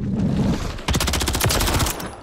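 Rapid automatic gunfire from a weapon in Call of Duty: Modern Warfare III on PS5, a loud burst of closely spaced shots lasting over a second, preceded by softer game noise.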